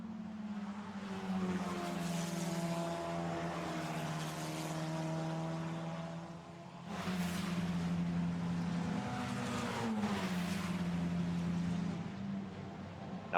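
A Formula Renault Eurocup race car screams through the fast Grand Courbe at Magny-Cours during qualifying, a sustained high-pitched engine note with gear shifts and a brief dip before it climbs again, heard without talk.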